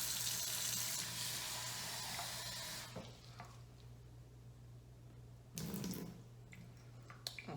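Hot water poured into a bowl in an apartment kitchen while cooking, a strong continuous splashing pour for about three seconds, then quieter trickles and a second brief pour, close by with no talk.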